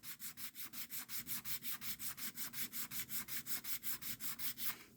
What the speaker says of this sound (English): I'm going to put a little sandpaper on top of it. And I'm just going to work this.